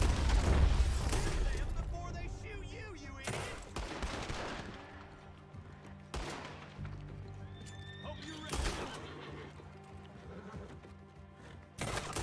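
Enemy gunfire from the Red Dead Redemption 2 video game cracks in several sharp bursts spread across the scene, mixed with horse whinnies and hoofbeats, while someone talks over the action.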